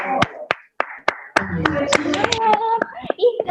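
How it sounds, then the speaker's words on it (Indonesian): Sparse, separate hand claps ring out one by one at a student group's introduction session, sharp and close, while voices talk over and between them. "Mana ini tepuk tangannya?"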